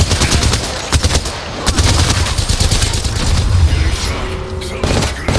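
Gunfire in the video game Apex Legends on the World's Edge map, with rapid bursts of automatic shots and sharp cracks repeating loudly throughout a fight, mixed with game voices and effects.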